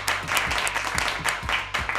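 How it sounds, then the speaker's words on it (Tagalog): An audience claps in a lively, steady patter of many hands, fairly close and continuous, with faint talk underneath. "Ba't ka pumapalakpak?"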